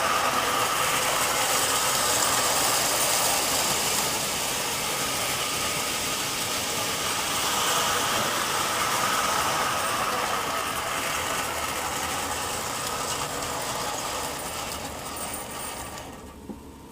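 Vanderbilt 264E and 265E model train locomotives run on slightly dirty track, giving a continuous close whirring, clattering mechanical drone at steady speed that fades out at the end.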